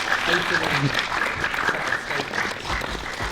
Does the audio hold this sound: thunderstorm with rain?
no